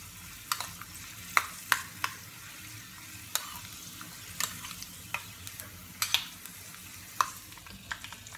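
Cashews and raisins frying in hot ghee for black rice payasam, giving a soft steady sizzle broken by sharp clicks and pops of stirring spoon against the pan, close by with no talking.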